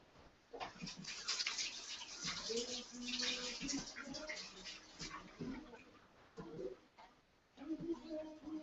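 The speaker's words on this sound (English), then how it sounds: "let me wash my hands and then we'll start" Hands being washed under running water from a tap in a home kitchen before cooking, a faint, continuous splashing hiss with occasional louder surges, while a person talks over it.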